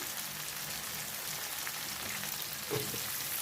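Potatoes fry in hot oil in a pan, giving a steady, close sizzle with a brief stir near the end.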